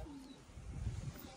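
A soft, low pigeon coo rises briefly over quiet background rumble, close and short.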